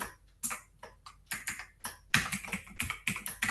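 Keys clack on a computer keyboard in uneven bursts of quick strokes with short pauses between them, close and clear with no voices.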